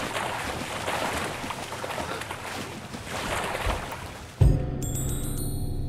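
A character plunges into water in the action game Sleeping Dogs, a sudden splash cutting through steady wind and boat-like rumble, followed by muffled underwater ambience.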